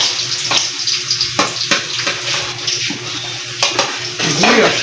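Chopped onion drops into garlic already frying in a pan for an igado with liver and pork belly, setting off a loud, steady sizzle broken by a few sharp clatters of the pan.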